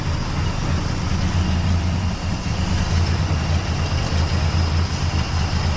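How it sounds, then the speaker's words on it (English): A car engine with an exhaust leak idles, a loud, steady low rumble with a ticking, puffing roughness underneath. It is close and continuous, with no talk over it. "Nice little exhaust leak."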